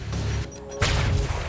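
A grenade goes off in the action game Quantum Break, with a sharp crashing blast that lands partway through amid ongoing battle noise, loud and close.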